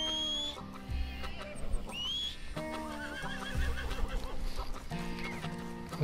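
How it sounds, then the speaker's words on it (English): Horse in the Red Dead Redemption 2 video game neighing and whinnying over steady hoofbeats, with music and game sounds layered around it at close, moderate loudness. "Come on, horse."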